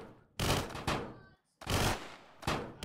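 Sniper fire in the Roblox game Robot Inc, four sharp, loud shots with rolling tails, spaced unevenly across a few seconds, with near-silent gaps between.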